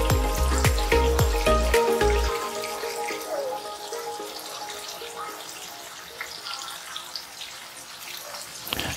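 Tofu frying in a pan, a steady sizzling hiss with some heavier spitting and crackling over the first couple of seconds that settles to a quieter, continuous fry.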